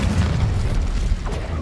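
A low, rumbling explosive boom from the Confringo fire spell in Hogwarts Legacy sustains heavily across the whole moment, dense and loud with no clear onset.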